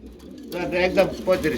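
A female pigeon at a pigeon market gives a few close, soft, throaty coos in quick succession, with people talking nearby.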